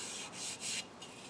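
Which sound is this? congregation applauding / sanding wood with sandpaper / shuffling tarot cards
sanding wood with sandpaper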